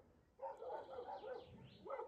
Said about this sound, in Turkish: Oo, orada bir sürü köpek var.